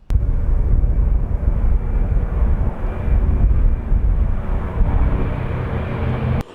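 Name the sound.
vintage propeller airplane taxiing and taking off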